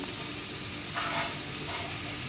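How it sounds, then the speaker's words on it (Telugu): Spice powder being stirred through a hot frying pan while cooking a Rayalaseema dish: a steady broadband sizzle with a brief surge of scraping midway, close and continuous, no voices. "ఒకసారి తిప్పుకుందాం"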